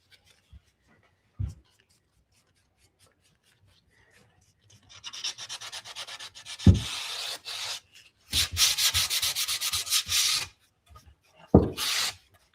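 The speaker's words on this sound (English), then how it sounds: "I'm going to make sure there's no more pink that I need to sand off." Pink paint being sanded off a thrifted item with sandpaper in bursts of close, raspy rubbing strokes, separated by soft knocks and short pauses.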